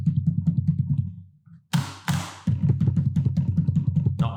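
Computer keyboard typing picked up by a Blue Yeti microphone, a quick run of close clacking keystrokes with a brief pause and a couple of louder thumps midway.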